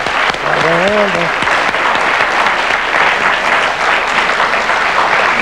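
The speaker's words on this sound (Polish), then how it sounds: "Piękna brawa, brawa, brawa, brawa" Audience applause fills the whole stretch, a loud, steady rattle of many hands clapping, with a brief voice heard near the start over the clapping.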